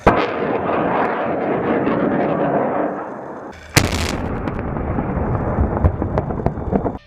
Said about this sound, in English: once detonated, the line charge creates a shock wave which blasts the mines and wire out of the way